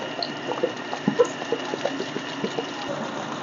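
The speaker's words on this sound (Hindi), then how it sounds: "थोड़ा सा पानी डालते हैं" Water poured by hand over vegetable plants in a small home garden at night, with soft irregular splashes and trickles close by, fairly quiet and steady with no talking.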